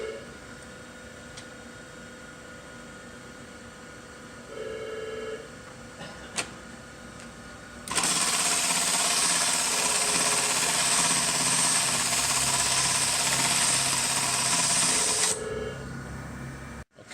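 A Juki LK1900B industrial sewing machine stitching on a VT-295 three-cord setup with thread trimmers disabled: quiet motor hum, short whirs, then a loud, dense rattling stitch burst lasting several seconds before winding down.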